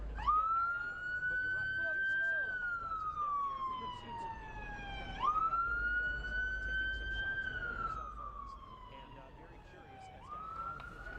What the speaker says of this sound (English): Here comes another officer with sirens and lights coming through.